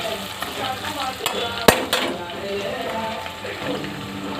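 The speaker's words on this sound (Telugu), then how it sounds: "ఈ వేగిన ఉల్లిపాయలు తీసుకొచ్చి మనం ఈ ఫ్రై చేసుకున్న చేపల్లో వేసాం" Fried onions tossed into a pan of frying fish, a steady sizzle with scraping stir sounds and one sharp clack of a utensil against the pan, close by.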